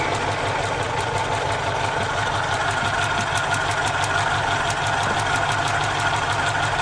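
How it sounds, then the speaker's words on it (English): A Suzuki car engine runs at a steady idle, a loud, continuous, even rumble with a fast regular mechanical ticking throughout and no talk. "start engine."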